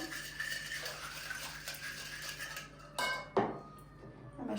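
Salt, sugar and water for börek dough are stirred together in a bowl with a spoon, a scraping swirl followed by a couple of sharp clinks against the bowl.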